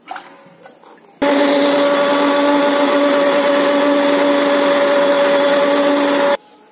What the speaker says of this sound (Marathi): आपण आता याला मिक्सर मध्ये काढून घेऊ